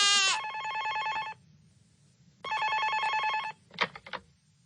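A cartoon telephone rings loud and close in two long electronic trilling bursts separated by a short pause, followed by brief rustling clatter.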